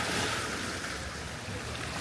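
Sea waves lap against the old stone walls of Dubrovnik in a steady, close wash of surf, with wind noise on the microphone and no talking.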